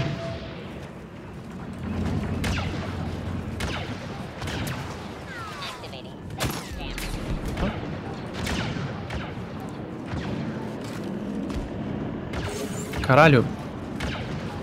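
Blaster gunfire in the video game Star Wars Battlefront 2, rapid bursts of shots and booming impacts that come in irregular volleys under excited voices talking throughout.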